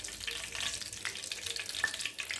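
Mustard seeds, spices and curry leaves sizzle in hot oil as a tempering for a Rayalaseema-style brinjal curry, a steady close crackling hiss with small pops and no talk.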